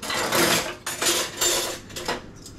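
Metal spoons and kitchen utensils clink and rattle as someone rummages for a small spoon while making tea, with several short bursts of clattering separated by brief pauses, close and fairly clear.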